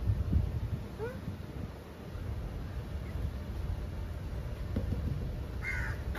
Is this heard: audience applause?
no